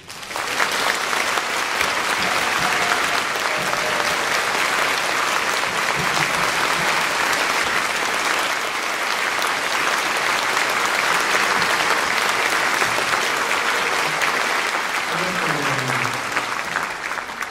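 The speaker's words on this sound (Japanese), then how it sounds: "盛大な拍手をお願いします" A large concert audience at a children's music festival gives the conductor long, sustained applause, a thick, steady roar of clapping that continues at full strength, with faint voices surfacing near the end.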